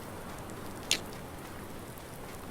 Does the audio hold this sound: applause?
no